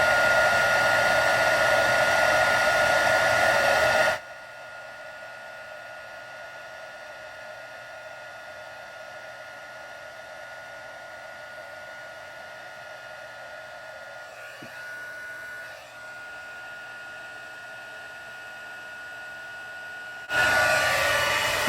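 A heat gun blows steadily while melting embossing powder on a card, loud for about four seconds, then switched off, and briefly roaring back on at the very end, with no talking.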